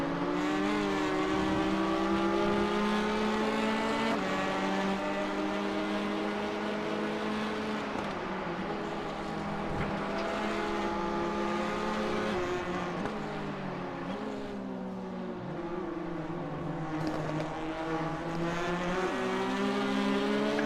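Four Clubsport race cars run nose to tail around a circuit mid-race, their layered engine notes droning loudly and continuously with overlapping tones that rise and fall through gear changes.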